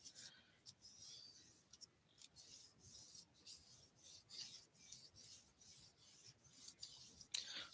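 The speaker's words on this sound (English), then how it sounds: "So, we're just going to burnish this down." Bone folder or burnishing tool rubbed repeatedly over layered paper ephemera, a soft close rasping scrape in steady back-and-forth strokes, quiet and with no talking.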